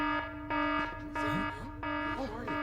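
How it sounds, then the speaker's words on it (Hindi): An emergency alarm sounds in a city control room in a live-action superhero series, with loud, repeated electronic tone pulses and swooping sci-fi effect sweeps layered over them. "ये सिर्फ अलार्म है ना कैप्टन?"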